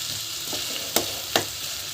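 Eggplant pieces sautéing in a pan with spices, a soft steady sizzle with two brief sharper stirring crackles near the end.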